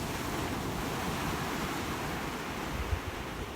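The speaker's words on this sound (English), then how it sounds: "I'm so glad I can share these beautiful waves with you today." Ocean waves on a beach make a steady, broad wash of surf with a soft low rumble and some wind buffeting, continuous and unbroken by speech.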